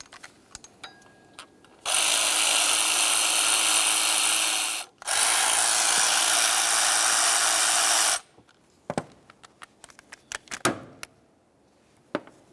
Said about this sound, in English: Now let's continue on to removing each of our 4 10mm headed bolts.